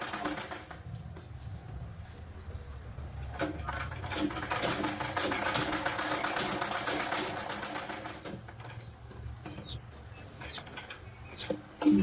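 A sewing machine runs in a steady, fast, close mechanical chatter while stitching down the middle of a blouse neckline to keep it straight. The run slows and stops near the end.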